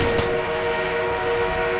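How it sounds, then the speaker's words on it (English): An armored train in the Battlefield 1 video game rumbles steadily, with a sustained horn-like tone holding over the dense mechanical noise for the whole moment. "We have an armored train en route."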